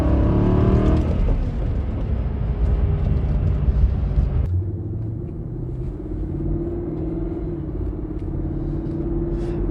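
A 2007 Jaguar XK rumbles steadily from inside the cabin while driving, a continuous low engine drone with a shift in tone partway through, no voices.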